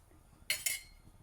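A lid is set on a cooking pot of potatoes in chickpea-flour yoghurt sauce, making two quick metallic clinks in close succession against a quiet room background.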